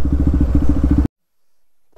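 A motorcycle near a waterfall, its engine idling loud and close with a steady chugging pulse for about a second before cutting out abruptly into silence, followed by a faint rustle.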